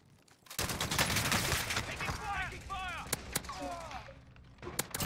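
A loud, sustained burst of automatic gunfire erupts in Warzone, rapid shots overlapping into a dense fusillade, followed by a few isolated cracks near the end.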